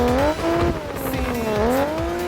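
Tires squeal and an engine revs hard as a car drifts through corners in Car Parking Multiplayer 2, a loud continuous screech with sliding, wavering pitch during a drift championship run.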